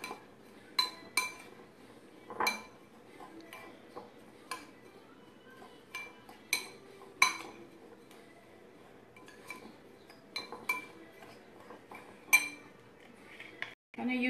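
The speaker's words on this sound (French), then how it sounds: "I'm gonna mix everything all together." Oats, honey and lavender essential oil are stirred together in a bowl for a homemade body scrub, with a spoon clinking against the sides in irregular taps and scrapes, quiet and close.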